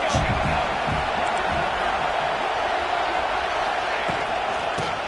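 A football stadium crowd roars in a sustained, loud wash of cheering and whoops, with a commentator's voice over the noise.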